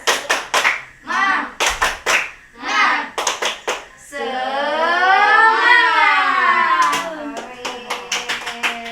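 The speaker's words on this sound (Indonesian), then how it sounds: "coba ya kita tepuk semangat ya." A fourth-grade class does the rhythmic tepuk semangat clapping chant: bursts of sharp claps alternate with children's chanted voices, then a long sustained sung call rising and falling before the claps resume.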